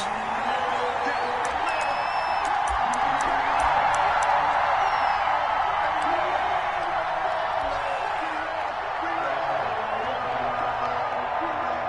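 A stadium crowd at a Cincinnati Bengals vs Baltimore Ravens football game gives a broad, steady roar with scattered whistles and whoops. The noise holds at one level for about twelve seconds as a dense, distant wash.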